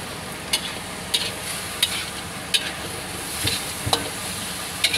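Adobo in coconut milk sizzles and fries in a pan over a steady hiss, with a sharp scrape of stirring every second or so, close and clear.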